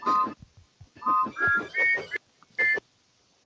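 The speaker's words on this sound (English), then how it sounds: "His firebox blew into his new 3-chime steam whistle." A toy train's three-chime steam whistle blows in a series of short, bright tonal bursts with gaps between them, fairly loud and close, with no talk over it.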